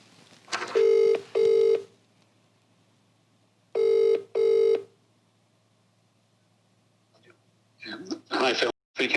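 Two bursts of touch-tone dialing beeps from a telephone placing a sales call, each a pair of quick tones with a pause between, followed by a brief ringing burst and the start of talk near the end.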